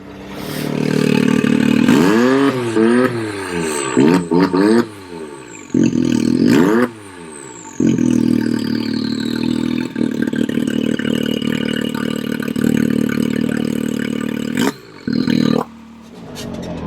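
Can-Am X3 fitted with a Silver Turbos 2.5-inch shocker pipe exhaust, roaring through repeated sweeping revs and throttle blips, then a sustained loud drone with abrupt cutoffs, close and with no voices.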